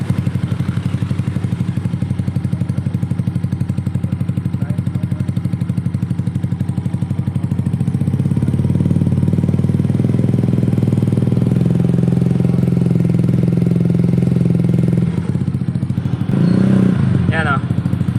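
A motorcycle engine runs steadily with a spinning fan cover fitted, giving a loud, close, even drone with a faint rattle, and the revs rise slightly midway while someone talks over it.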